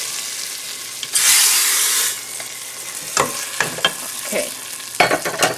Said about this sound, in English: See how that sizzles?